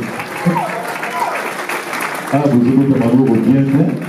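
Sustained crowd applause fills a wedding reception room while someone speaks loudly in French over the clapping.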